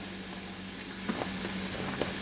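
Halibut sizzles steadily in a hot frying pan, a constant crackling hiss with a few faint clinks, close by and without speech.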